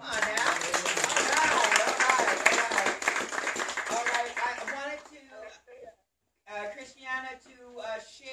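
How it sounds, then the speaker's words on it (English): Congregation claps hands at a Yom Kippur church gathering, a loud dense mix of clapping and crowd noise that fades out, followed after a brief gap by voices talking. "Give my hand clap."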